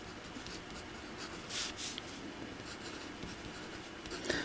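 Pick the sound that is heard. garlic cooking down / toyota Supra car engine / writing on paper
writing on paper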